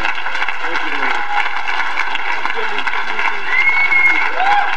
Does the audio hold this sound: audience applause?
yes